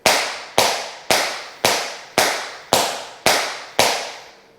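Tap shoes striking a hard floor in eight evenly spaced single taps alternating right and left feet, each a sharp, bright click with a short decay, steady rhythm and no talking.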